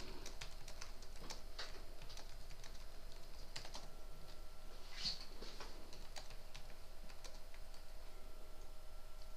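Computer keyboard keys tapped in quick irregular bursts, close and moderately loud, with faint clicks scattered over a steady background hum and no talking.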